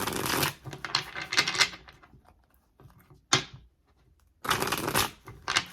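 Tarot cards riffled and shuffled by hand in close, crisp bursts, a long run of shuffling, a short pause, a single sharp riffle, then another full burst of shuffling.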